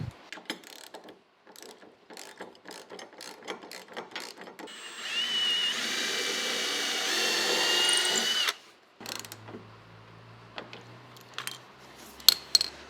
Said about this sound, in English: what I'm actually going to do now is tighten this down with a socket set